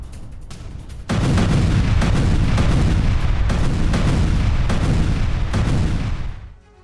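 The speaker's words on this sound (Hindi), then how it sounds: "इजरायल ने लेबनान पर तोप से दागे गोले" Continuous heavy artillery fire, Israeli shelling of Lebanon, with booming blasts rolling together into a dense, loud barrage, fading out at the end.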